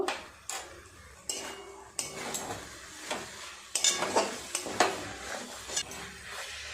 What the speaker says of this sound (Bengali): খুব ভালো করে সসগুলো সবজির সাথে ভালো মিশিয়ে নেব